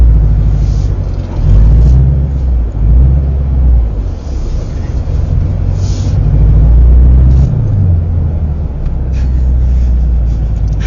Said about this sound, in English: now we're gonna put it in first and start moving